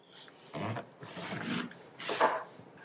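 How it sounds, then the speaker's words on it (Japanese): A knife slices Chinese quince, unpeeled and washed, into rounds, giving three broad rasping cuts with short pauses between, close and fairly soft, with no speech. "こんな感じで輪切りにしていきます。"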